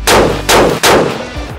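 Three sharp, loud rifle shots fired with a 6.5 muzzle brake, spaced about half a second apart, each a close blast with a short ringing decay.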